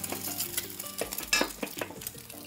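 Egg frying in oil in a wok in a Chinese village kitchen, a steady close sizzle broken by quick metal clinks and scrapes as the egg is stirred vigorously.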